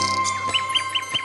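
A nightingale in an animated fairy tale sings a quick series of bright, repeated chirps, clear and close over a soft musical background.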